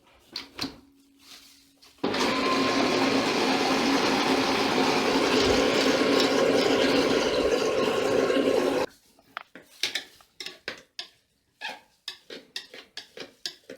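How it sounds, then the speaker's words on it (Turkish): A blender roars loudly and steadily for about seven seconds while making homemade potato chips, then cuts off, followed by scattered clinks and taps. "Ve Blender'ı çalıştıralım"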